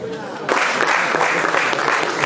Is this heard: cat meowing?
no